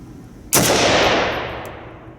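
A single loud semi-automatic shot from a heavy SIG Sturmgewehr 57 rifle with a muzzle brake cracks sharply, then its echo decays slowly across the outdoor range.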